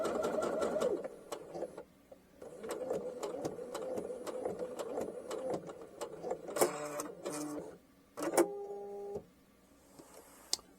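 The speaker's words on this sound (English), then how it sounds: "going to take 1 or 2 more stitches back up to the dot and then sew that all the way to the end" A domestic sewing machine stitches a seam in bursts, a close steady mechanical whir that stops and restarts, with a few short clicks and clunks from handling near the end.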